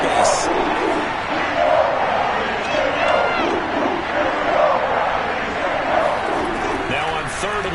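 Dense, steady roar of a Cleveland football stadium crowd with the Dog Pound section making noise against the opposing offense, loud and continuous throughout with swells of cheering and shouting.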